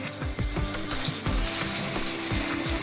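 Ground tomatoes sizzling in hot oil for a tomato pickle, a steady loud frying hiss layered with repeated mechanical clicking and ratcheting bursts, close and continuous.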